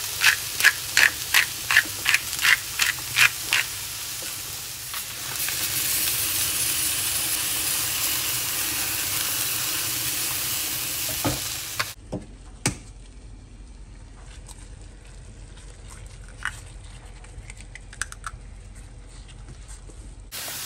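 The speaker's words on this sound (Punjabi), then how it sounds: "ਉੱਧਰ ਆਪਾਂ ਰੱਖਦੇ ਹੋਏ ਆ ਜੀ ਅਨੀਅਨ ਅਤੇ ਮਸ਼ਰੂਮ ਸੋਤੇ ਹੋਣ ਲਈ" Onion and mushroom sautéing in a pan: a quick run of sharp knocks opens, then a steady, fairly loud sizzling hiss holds for several seconds before dropping to a quieter simmer with scattered clinks.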